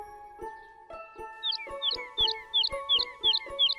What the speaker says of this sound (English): That bird keeps whistling and interrupting our song, Junior.